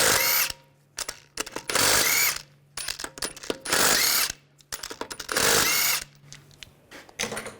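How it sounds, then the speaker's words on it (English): A power tool with a 17mm socket spins lug bolts off a 2009-2017 Volkswagen Tiguan wheel, loud repeated whirring bursts separated by short pauses and clicks, close by. "Using a 17mm socket, we're going to take these lug bolts off"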